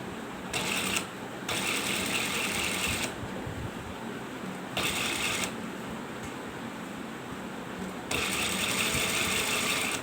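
A sewing machine stitches a ladies belt shalwar in short bursts of mechanical whirring, about four runs separated by pauses, close and steady with no talking.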